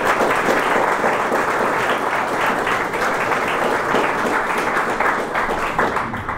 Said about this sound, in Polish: Wielkie brawa jeszcze raz dla Pana Ryszowa.